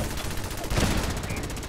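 Rapid gunfire in the video game Fallout 4 comes as a dense, continuous barrage that swells briefly near the middle. It sounds loud and close throughout the short clip.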